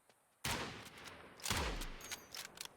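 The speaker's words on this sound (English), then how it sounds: "I sniped him." Sniper rifle shots in the video game Nightingale: two sharp, loud reports about a second apart, the second trailing into a low rumbling boom, followed by fainter crackles.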